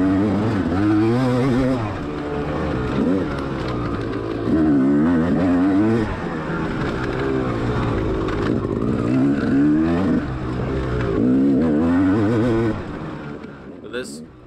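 A dirt bike charges hard along a dusty, rocky trail, its engine revving and surging in repeated waves of acceleration while a rider talks over the roar throughout.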